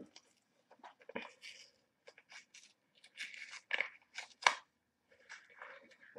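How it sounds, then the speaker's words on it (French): Scissors snipping through packaging while figurines are unboxed, a series of short, uneven crisp cuts and crinkles close up, with quiet pauses between bursts. "Ah, je suis revenue avec des ciseaux."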